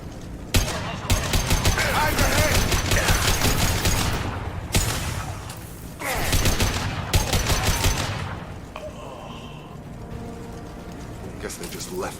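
Dense automatic and machine-gun fire in a Mass Effect 2 firefight between Blue Suns mercenaries and Vorcha, bursts rattling loudly in repeated volleys with brief lulls, fading to quieter ambience near the end.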